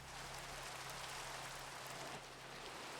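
Steady Minecraft rain in the video game, a soft continuous hiss of falling drops, faint and even throughout with no voices.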